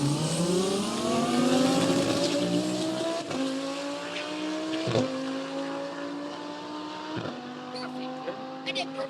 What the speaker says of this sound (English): I'm gonna try to launch it and make that work.